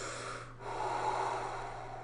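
A person demonstrates deep yoga-style breathing, with a long, steady breathy exhale, a brief pause, then another slow, rushing breath, close and clear with no talking.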